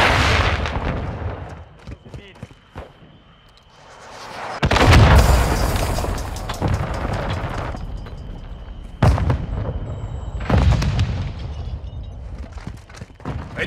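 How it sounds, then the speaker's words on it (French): A flash grenade blasts in Call of Duty: Modern Warfare II, with several loud, booming bursts spread across the clip amid crackling gunfire and battlefield rumble, briefly quieter before the main blast. "Grenade flash lancée."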